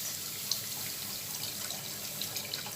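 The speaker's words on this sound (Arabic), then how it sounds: "هنزل بقى باللبن بسم الله الرحمن الرحيم واحده واحده" Cold milk poured gradually into a toasted flour roux in a pot while making béchamel, a soft, steady liquid trickle with faint clinks, no talking.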